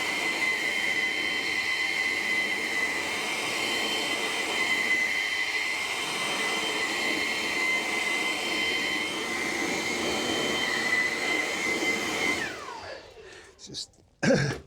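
Compressed air blasts steadily onto a car wheel with a loud, continuous hiss and a high whistle, then cuts off near the end amid a few knocks.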